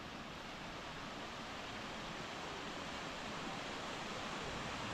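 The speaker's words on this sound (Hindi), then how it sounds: "ये एक और छोटा सा झरना है।" A small waterfall at Tiger Fall near Chakrata, Uttarakhand, pours in a steady, dense rush of water, close and unbroken throughout with no voices.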